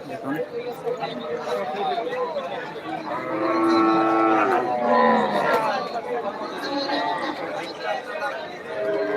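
Cows at Deohata cattle market low and moo repeatedly amid a busy crowd, with people chattering and talking close by throughout.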